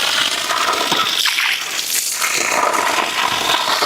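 Borewell water pours hard from a motor pump at a beachfront gated community on ECR. The rush and splash are loud and steady and continue without a break.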